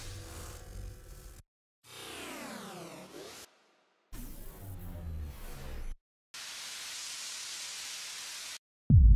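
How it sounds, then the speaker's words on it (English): Several separate bursts of white noise sound effects from a sci-fi-flavoured remix track, broken by short silences, including sweeping and filtered noise, a flat hiss and a brief hit at the end. "Some white noise."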